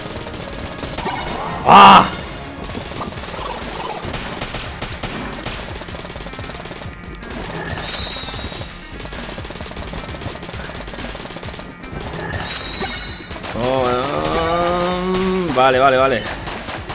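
Gunfire in the Exit the Gungeon video game, one loud sharp burst early on, then quieter rapid shooting under game music and effects, while someone speaks Spanish briefly.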